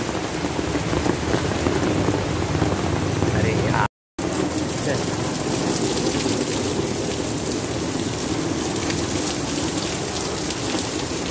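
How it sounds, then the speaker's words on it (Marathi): Heavy rain pours down in a steady, dense hiss that fills the whole stretch, briefly cut off by a short gap before carrying on unchanged. "खूप पाऊस चालू आहे नाही का गाईज."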